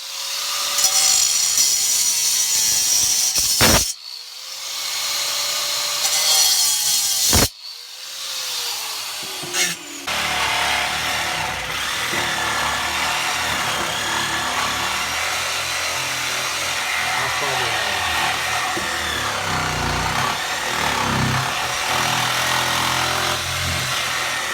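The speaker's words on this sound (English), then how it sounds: "Alright, I'm ready for the grinder." An angle grinder cuts on a plumbing sewer repair job, giving a few short bursts that start and stop, then a long, loud, continuous harsh grinding whine that fills the rest of the clip.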